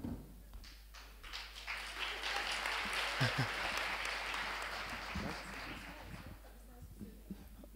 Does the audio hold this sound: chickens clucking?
no